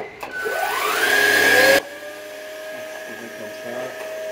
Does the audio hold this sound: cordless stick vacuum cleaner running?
yes